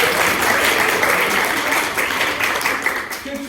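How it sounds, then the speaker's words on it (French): A lecture-hall audience at a student pleading contest gives sustained, dense applause, loud and even throughout, with a voice emerging faintly near the end. "on peut vous applaudir"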